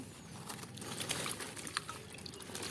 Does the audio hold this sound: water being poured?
yes